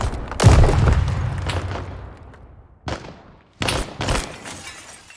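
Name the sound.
gunfire shooting in a video game mission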